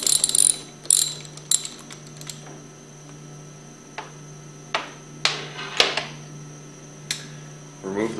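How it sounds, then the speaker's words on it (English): A ratchet with a 9/16 socket works the plunger nuts on a 2400 plunger pump: bursts of close, clicking pawl ratcheting come in short spurts separated by pauses, over a steady background hum. "remove these plungers by taking your 9/16 socket and removing the nuts"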